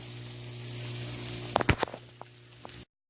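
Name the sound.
onions and bacon grease sauteing with seasonings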